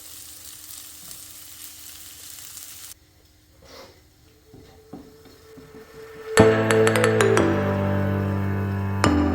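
Onions dropped into hot oil in a home kitchen burst into a loud, bright sizzle after a quiet start with faint clatter, continuing as a strong steady frying hiss to the end.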